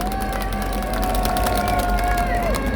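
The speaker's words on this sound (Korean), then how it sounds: "큰 박수 부탁드립니다" An audience at a political rally applauds with steady, dense clapping mixed with crowd noise and cheering, a sustained tone running over it.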